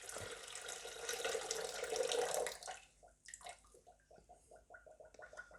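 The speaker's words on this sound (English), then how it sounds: "You need to make sure that you put enough water in the pressure cooker" Tap water runs steadily into a pressure cooker pot for a few seconds, then stops, followed by a series of small drips and sloshes nearby, with no talking.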